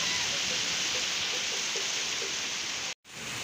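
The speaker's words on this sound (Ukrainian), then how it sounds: "Дощ розходиться, ось там майже села вже не видно" Steady, dense rain from a thunderstorm hisses without a break, a broad even wash of sound that briefly cuts out near the end.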